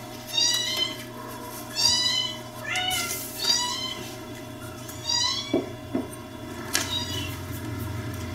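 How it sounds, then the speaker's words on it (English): A cat meows repeatedly and fairly close, about six drawn-out calls in an irregular rhythm over a faint steady background hum, with a couple of small knocks between them. "I hear you, kitty."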